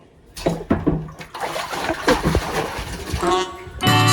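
Water splashes and pours noisily for several seconds from a water tank, with a voice talking over it and a brief tonal burst near the end.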